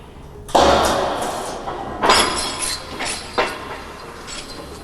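A fastener tears out of a fiberglass and balsa-core epoxy composite panel under a load test, a sharp loud crack followed by several fainter cracking thuds and crunches as the laminate gives way.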